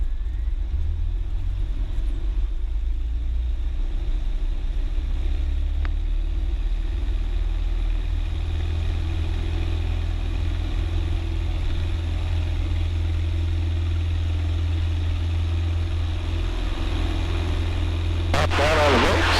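Small airplane engine running steadily on the ground before takeoff, a constant low droning hum throughout with a brief burst of clatter near the end, and muffled radio talk faintly underneath.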